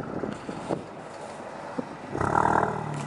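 A straight-piped Alfa Romeo engine idles roughly, then revs up briefly with a deep growl near the end, close and moderately loud.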